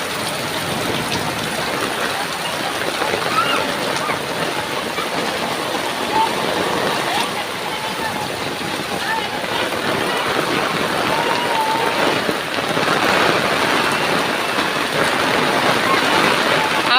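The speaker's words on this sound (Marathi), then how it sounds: "एवढा पाऊस पडतोय ना तुम्हाला माझा आवाज पण नीट नसेल येत कारण की पाऊस पडतोय म्हणून" Heavy rain falls outdoors in a dense, continuous hiss of drops, loud and steady throughout with no break, with a faint voice barely audible under the downpour.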